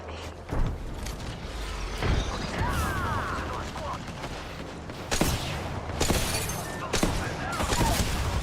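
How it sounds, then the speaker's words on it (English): Enemy gunfire in Apex Legends comes as a few sharp cracking bursts and impacts over a dense background of game noise, while a player talks throughout. "They're shooting at me."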